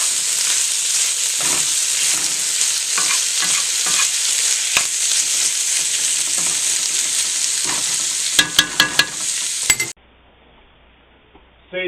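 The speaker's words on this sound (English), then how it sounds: "now it's time to add our carrots, onions, and garlic." Carrots, onions and garlic frying in a pan with seitan and potatoes make a loud, continuous sizzle with frequent stirring scrapes and a quick burst of clinks before it drops to quiet.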